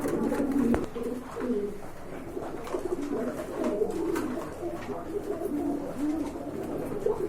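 Several domestic and imported pigeons coo steadily in a loft, their low rolling calls overlapping throughout with a busy murmur of nearby birds.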